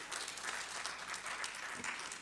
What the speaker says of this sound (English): So let's give a round of applause, people.